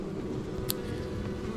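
Honey bees hum in a low, steady drone inside a horizontal Langstroth hive. The buzzing is close and continuous, soft but constant, with no speech.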